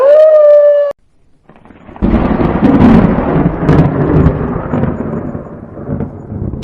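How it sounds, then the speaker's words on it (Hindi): After a brief tonal note and a moment of near silence, a loud roll of thunder bursts in over a heavy, steady wash of rain. "बाहर गरजते बादल और तेज होती बारिश की आवाजें"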